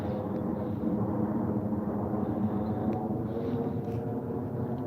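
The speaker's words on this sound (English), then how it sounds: "Jet fighter." A jet fighter passes overhead as a steady, fairly loud roar that holds evenly for about five seconds with no other sounds over it.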